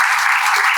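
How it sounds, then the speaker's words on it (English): Very brief burst of dense, steady audience applause at a lecture event, loud and close with no individual claps standing out. "Please join me to give a big round of applause to him."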